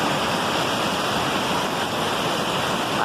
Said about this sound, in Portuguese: Pra cachoeira aqui, ó